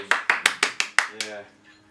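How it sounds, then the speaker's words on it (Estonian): A short burst of about six sharp hand claps lands in an even rhythm and fades out, followed by a brief voice at the end. "Aplaus."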